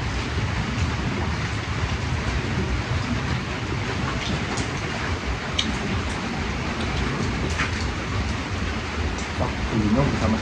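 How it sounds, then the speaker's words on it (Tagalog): Heavy rain pours continuously with gusting wind, a dense steady roar close around, broken by faint scattered clatters, while people talk now and then beneath it. "Grabing ulan, hangin."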